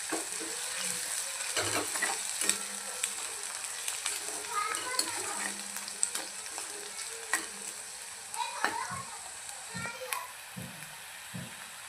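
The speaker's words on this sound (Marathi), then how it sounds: "त्यामध्ये आपण थोडंसं ठेचलेलं लसूण आणि अद्रक ॲड करूया" Crushed garlic and ginger fry with onion for dal tadka, making a steady soft sizzle with scattered stirring clicks and scrapes while a voice talks faintly in the background.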